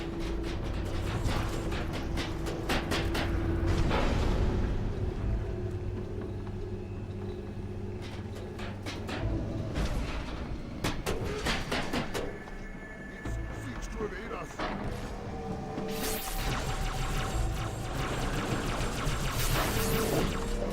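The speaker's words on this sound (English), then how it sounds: "Long ass elevator ride down." A long elevator ride down plays in a Halo video game, with a steady mechanical rumble and hum plus scattered clanks and rattles, partly under speech.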